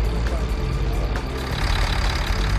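Stryker armoured vehicle with a Caterpillar 3126 diesel engine idling, a loud, steady low rumble close by that fills the whole stretch without pause.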